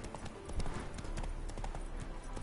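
Hooves of Roach the horse clip-clop in quick, steady rhythm in The Witcher 3, fairly close and continuous over game ambience.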